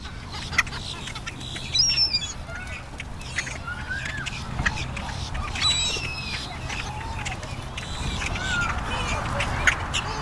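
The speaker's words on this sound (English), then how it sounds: "You guys make a lot of noise for birds." Ducks and other birds feeding in a park quack and call repeatedly at close range, a busy overlapping chorus with chirps, over a continuous background hum.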